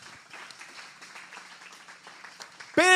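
Church congregation applause, a soft spread-out clapping that runs a few seconds at moderate distance before a sudden loud tonal sound cuts in at the end.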